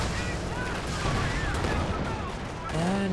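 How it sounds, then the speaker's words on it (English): A high-explosive artillery barrage in the World War II strategy game Company of Heroes 2, dense rumbling shell fire that rolls on continuously while a commentator talks over it. "Nope, it's a high explosive barrage."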